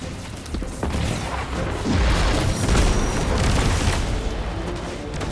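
Grenade blasts in Destiny 2 combat, heavy low booms rolling together into a loud sustained rumble that swells midway, close and dense, with no voices.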